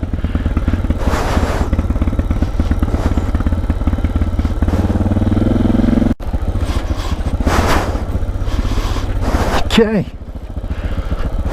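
Big single-cylinder thumper motorcycle ridden on a mountain road, its loud steady engine pulsing throughout with a brief dip near the middle, close up, with a voice speaking briefly over it.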